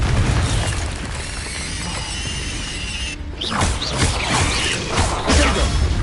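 Confringo blast spell explosions in the video game Hogwarts Legacy, a dense run of loud booming bursts and crackling debris over continuous game noise, with a brief dip before another impact swells in.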